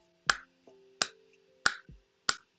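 Four crisp finger snaps ring out at even intervals, close and clear against near silence, each one a sharp click with a short decay.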